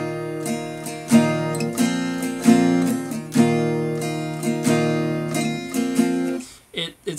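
Acoustic guitar strums a chord-switch pattern for a song, starting on the up strum, in close, loud rhythmic down and up strokes with repeated chord changes, ending in a brief muted scratch.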